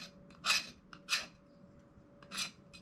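A knife edge rasping across a fire steel to throw sparks, three separate bright scrapes with pauses between them, close and clear with no talk.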